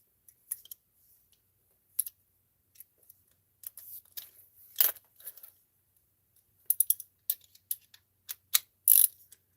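Ratcheting screwdriver clicking in irregular bursts, crisp metallic ticks near and fairly quiet, with short pauses between runs of clicks.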